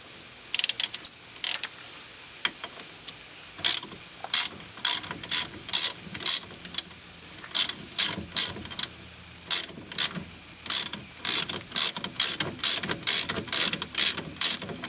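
Ratchet wrench with a 13/16 socket tightening the front ABS sensor bolt on a 2005 Jeep Grand Cherokee, giving quick bursts of sharp clicking strokes in steady repeated rhythm, close and alone.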